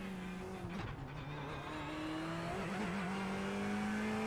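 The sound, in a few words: Ferrari 488 Evo race car at Hungaroring in iRacing video game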